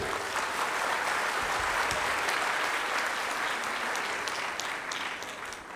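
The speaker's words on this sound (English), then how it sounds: "A round of applause to everybody." Audience applause fills a university public lecture hall welcoming first-year students, a dense steady clapping that holds loud for several seconds and then slowly thins toward the end.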